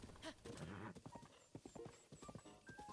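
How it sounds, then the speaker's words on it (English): Horse hooves clip-clop at a riding pace in the video game The Legend of Zelda: Breath of the Wild, a brisk, even rhythm of hoofbeats with a brief whinny and game music behind. "I've never seen someone ride a horse before."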